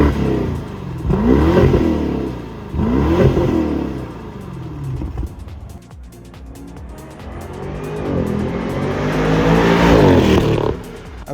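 A BMW 650i M Sport with an upgraded exhaust revs in several loud, rising and falling bursts, with a brief lull midway before a longer, building rev near the end, close to the car and without speech.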